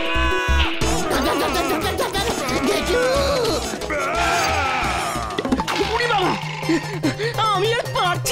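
A goat bleats repeatedly in a cartoon comedy scene set around a train, its wavering cries loud and close amid crashes, thumps and excited voices talking.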